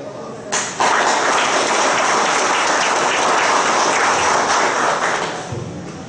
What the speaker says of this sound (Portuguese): Recebemos uma salva de palmas o segundo sargento Edinaldo Rodrigues de Moraes